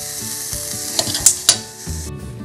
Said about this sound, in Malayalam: ഇത് കുറച്ചൊന്ന് ഇങ്ങനെ വറുത്തെടുത്തിട്ടുണ്ട്.